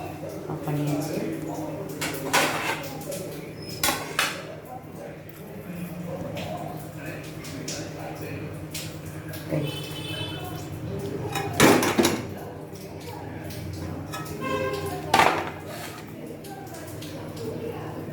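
Fenugreek idli lifted out of a home steamer, with metal plates and lids clattering and clinking in several sharp bursts while someone talks nearby.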